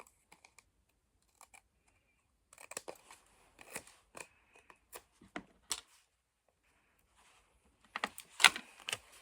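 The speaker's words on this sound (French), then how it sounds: "je vais couper le tour blanc avec mes ciseaux" Scissors snip through a paper label in short, crisp cuts, sparse at first and then in quicker clustered bursts, close and fairly quiet with no talking.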